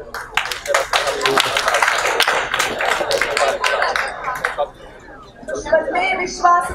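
An audience at a 2022 film festival ceremony breaks into applause, dense overlapping claps filling the hall and gradually thinning out, while a voice talks over the noise.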